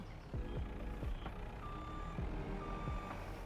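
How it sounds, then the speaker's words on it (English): A harvester in a farming video game emits steady, evenly spaced warning beeps at a silo, a faint repeating tone over a low engine hum. "it went beep, beep, beep, beep, beep, beep."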